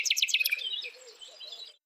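A bulbul sings a quick, bright run of repeated chirps that thins into softer warbling notes, close and clear, and then stops.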